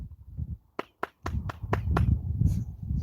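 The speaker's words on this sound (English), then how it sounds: "Why does it sound like you're clapping with cymbals or something?" Six sharp, bright hand claps in an uneven sequence ring out clearly with a metallic, cymbal-like sizzle. A low murmur of voices and room noise sits underneath.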